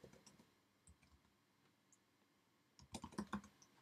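Keys on a computer keyboard are typed in short, quiet clusters, sparse taps at first and then a faster burst near the end, close and unaccompanied by speech.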